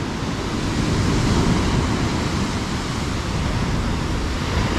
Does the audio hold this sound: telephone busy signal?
no